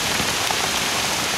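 Steady, dense rain drums on a makeshift survival shelter in a continuous wash of close patter, with no voices.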